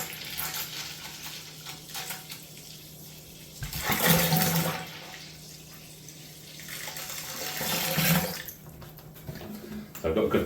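Water runs into a fermenting vessel to top up a Woodforde's Wherry beer kit brew to the 20 litre mark, a steady rushing pour that swells loudly twice.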